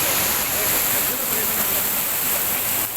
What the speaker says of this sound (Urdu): ایک طرح دوبارہ سے نظارہ ہے خوبصورت آبشار کا